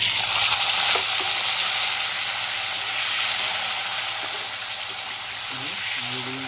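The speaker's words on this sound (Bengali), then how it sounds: "এই তেলে আমি লম্বা লম্বা করে কেটে রাখা আলুগুলো ভেজে নেব।" Potato sticks fry steadily in oil left over from frying fish, a loud, continuous sizzle and crackle that holds throughout with slight variations.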